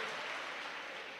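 Brief, steady applause from an audience at a spiritual lecture, a dense wash of clapping heard alone for about a second.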